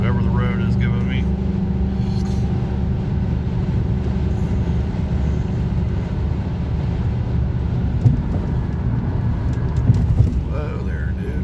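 A 2003 VW Passat W8 4Motion cruises at highway speed in sixth gear, with a steady low engine and road drone throughout while someone talks over it.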